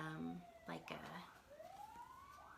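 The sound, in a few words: emergency vehicle sirens outside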